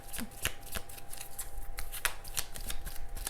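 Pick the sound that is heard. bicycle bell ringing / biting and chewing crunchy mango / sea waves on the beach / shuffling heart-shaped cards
shuffling heart-shaped cards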